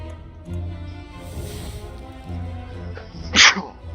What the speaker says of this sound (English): Hopefully you didn't go deaf from that sneeze